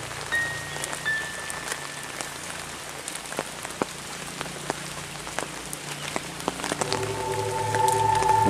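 Rainy-season rain falls on a village, an even hiss punctuated by sharp drips and taps nearby, with the downpour swelling louder and a faint tonal hum emerging toward the end; no one speaks.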